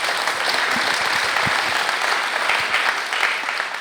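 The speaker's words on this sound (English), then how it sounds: "Let's give all those electeds a round of applause for being here." A round of applause from the audience at an outdoor roadway renewal open house honoring elected officials, dense, steady clapping at moderate volume with no talk over it.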